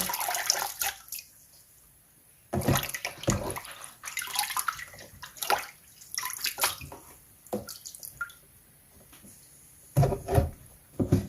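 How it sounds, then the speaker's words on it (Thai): Dandelion flowers rinsed by hand in a basin of water over several changes, with intermittent splashing, swishing and dripping in irregular bursts, close by and moderately loud. "ไปล้างสักสองสามน้ำ"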